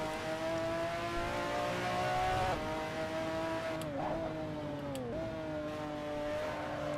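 A GT500 race car engine in a racing simulator holds a steady, loud drone with strong harmonic tones, dipping briefly at gear shifts around the middle and end, with no talking.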